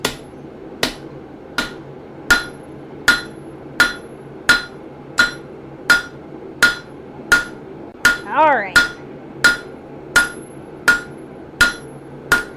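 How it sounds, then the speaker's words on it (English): A hammer forges a hot steel gardening trowel blade on an anvil, striking in an even rhythm of about sixteen sharp, ringing blows that are loud and close, with a brief spoken word partway through. "we're going to use the broad face of the hammer to get those little edges thinner"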